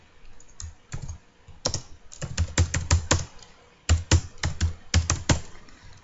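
Java code typed on a computer keyboard, close and clear, in quick bursts of clicking keystrokes separated by short pauses, with no talk.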